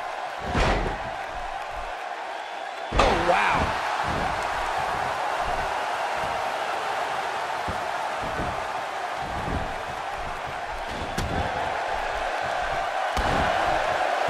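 An arena crowd roars steadily at a WWE 2K16 wrestling match, a dense, continuous wash of cheering punctuated by a few loud slams and thuds near the start and end.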